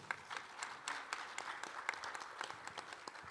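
Faint, distant audience applause at a forum session in Pyeongchang, a steady patter of many hands clapping at low volume throughout.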